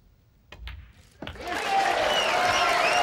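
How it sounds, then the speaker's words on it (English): A crowd at a World Pool Masters match breaks into a big cheer and applause, starting with a couple of isolated claps, then swelling into loud, sustained clapping and whooping that fills the hall. "Big cheer already"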